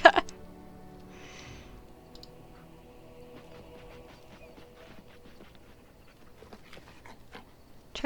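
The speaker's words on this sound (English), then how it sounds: "Happy bark." A war dog in the fantasy game Dragon Age: Origins lets out a sharp, happy bark right at the start, followed by quieter clicks and soft movement sounds, with another brief bark at the very end.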